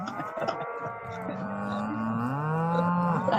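Cattle in a field beside a state park campground, a long, drawn-out moo rising and falling over several seconds, fairly close and clear, with faint background noise and no talk.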